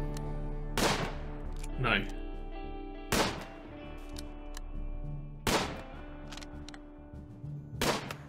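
Gunfire aimed at an animal in Rimworld: four or five sharp, spaced single shots ring out loud and close at irregular intervals, with faint game ambience between them and a brief spoken word.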